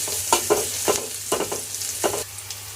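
Sliced green chillies and chopped garlic fry in oil with onions, a close sizzle broken by several sharp scraping stirs of a spatula against the pan.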